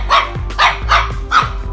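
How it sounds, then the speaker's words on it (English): A dog barks four times in a steady rhythm, each bark loud and close, with short gaps between them and no talking over it, heard indoors in a barber shop. "That's my dog."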